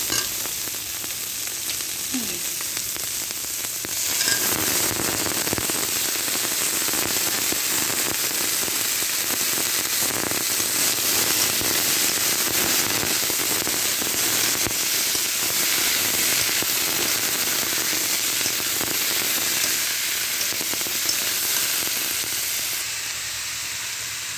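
Ash gourd pieces go into small crabs frying in oil with turmeric and chilli, producing a loud, continuous sizzle with popping crackles throughout.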